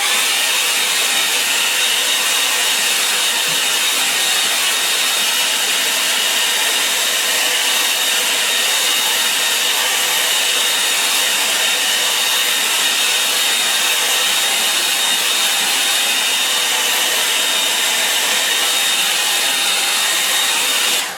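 A hair dryer blows continuously over paper paintwork, a steady loud airy hiss that holds unchanged throughout with no other sounds.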